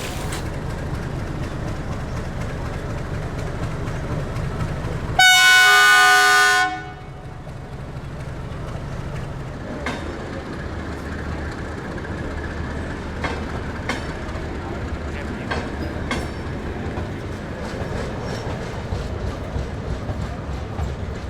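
At Ringas station in India, on meter and broad gauge lines, a train sounds a loud horn blast lasting under two seconds over a continuous rumble of rail traffic and platform ambience, with occasional faint clicks and clanks.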